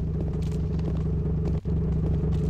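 A loud, deep exhaust rumble from a parked car in Silent Hill 2 throbs steadily with a pulsing idle, dropping out for a brief instant before carrying on.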